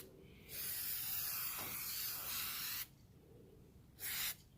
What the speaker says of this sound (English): I'm being careful not to spray too far out, because I don't want to get it on the tire, on the rubber tire.